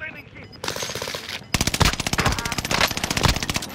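Rapid automatic gunfire in Call of Duty: Modern Warfare rattles loud and close after a brief earlier burst, with a voice speaking near the start.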